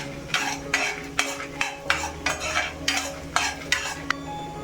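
Five or six dried red chillies frying in a pan, a sizzle cut by regular rhythmic stirring scrapes about twice a second, with soft music underneath and no speech.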